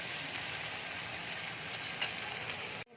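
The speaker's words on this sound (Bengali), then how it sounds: "এবার আমি একটু নুন দিয়ে দিচ্ছি, দিয়ে ভালো করে ভেজে নেব।" Tomatoes and vegetables fry with salt in a pan for an egg curry, giving a steady, close sizzle and crackle that holds evenly before cutting off abruptly.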